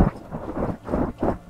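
Thunder rumbles as a sound effect in a sci-fi horror story about a spaceship, rolling in deep, repeated swells amid steady rain-like noise with no voice over it.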